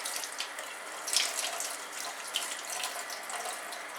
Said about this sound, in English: And let's go ahead and give it a rinse.